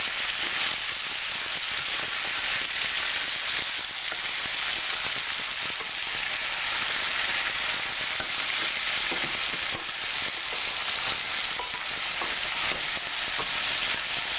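Goat meat sears in a pan for curried goat, giving a loud, steady, bright sizzle that crackles continuously throughout with no talk over it.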